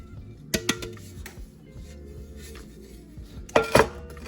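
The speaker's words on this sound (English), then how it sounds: "we're just gonna toss our pan around until sugar is everywhere we have butter." Granulated sugar tossed around inside a buttered metal cake pan for a pound cake, giving soft rattling and scraping with a few sharp metallic clinks near the start and a louder clattering burst toward the end, close and with no talk.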